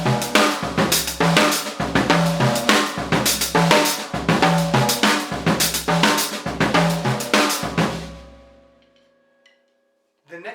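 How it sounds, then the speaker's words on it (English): Linear drum pattern spread across the kit, moving between hi-hat, snare and tom-toms in a busy, loud, continuous groove that ends and decays into near silence before a brief sound at the end. "The very next step after that is to move notes around to various surfaces on your drum kit."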